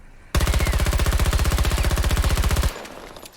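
Sustained automatic fire from an M5A3 rifle in the Battlefield video game: a loud, rapid, evenly spaced stream of about forty shots lasting over two seconds, then stopping abruptly.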